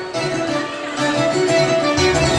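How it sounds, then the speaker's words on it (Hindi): A school annual prize distribution ceremony audience claps to welcome a performing group, a dense, continuous wash of applause that swells slightly louder midway and holds steady throughout. "आपकी भरपूर तालियों से सादिया और इनके ग्रुप को खुशामदीद कहते हैं।"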